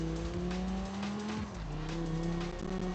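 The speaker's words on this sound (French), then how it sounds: "Petit dérapage." A car skids with a brief tire squeal over a steady, humming engine drone in a racing video game streamed through a browser, played fairly quietly and without talk.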